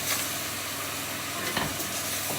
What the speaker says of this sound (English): So just frying off the gammon.